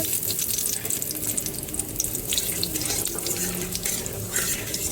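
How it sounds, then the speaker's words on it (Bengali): Dry red chillies, whole cumin and whole garam masala sizzle in hot oil left from frying potatoes, a loud, even, hissing crackle that holds steady and close throughout. "ফোড়ন দিলাম।"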